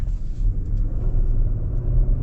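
Genesis G80 Black sedan engine surging under mid-range acceleration around 3,000 RPM, a steady low rumble and drone that stays fairly even throughout, heard from inside the cabin with no talking.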